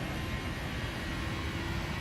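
A Boeing 737-800 in FSX runs its jet engines at full throttle on the takeoff roll, giving a steady, loud, broadband roar that stays unbroken the whole time with no speech.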